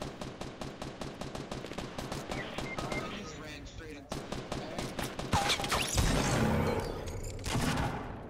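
Rapid bursts of sniper and automatic gunfire from the Fortnite closed beta video game, dense repeated shots running throughout with a louder, heavier stretch near the end, mixed under excited player talk.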